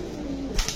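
A pigeon gives a short, soft low coo, close by and fleeting, followed by a brief rustle.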